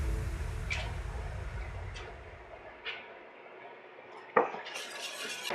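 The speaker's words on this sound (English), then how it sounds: "We got it up to a boil. I'm going to start slowly adding the roux in." Roux stirred into boiling brown gravy for poutine, a low bubbling simmer with a few faint utensil scrapes and one sharper clink near the end.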